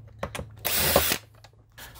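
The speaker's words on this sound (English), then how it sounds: "I'm gonna just continue on removing all these screws." A power tool drives out glove box screws inside a 1998 Jeep ZJ 5.9: one close, loud, buzzing burst of about half a second, with small mechanical clicks and handling noises before and after.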